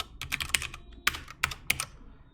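Typing code on a computer keyboard in quick bursts of crisp, close key clicks, with a few separated taps and short pauses between them, quiet and with no voice.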